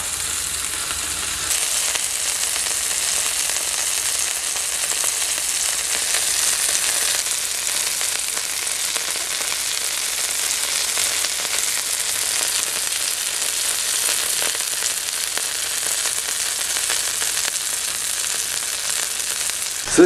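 Pieces of red squirrel meat fry in a pan, a loud, continuous close-up sizzle and crackle of hot fat that holds steady and unbroken with no voices.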